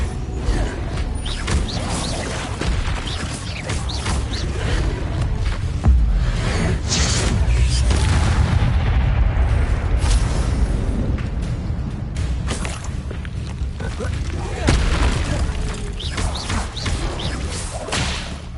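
An Incendio fire spell cast repeatedly in Hogwarts Legacy, with whooshing flame bursts, creaks and thuds layered over a busy combat soundscape, loud and continuous with swelling surges.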